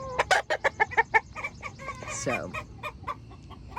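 A small backyard flock of Rhode Island Red and speckled Sussex hens with a big white rooster clucks in quick, sharp bursts, then gives a longer squawking call among softer clucks, close by, with a brief spoken word.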